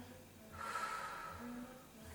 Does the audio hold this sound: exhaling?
yes